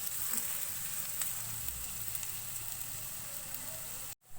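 Finely chopped vegetables sizzle steadily in a pan over a medium flame for aloo gobi, a soft continuous frying crackle with a brief dropout near the end.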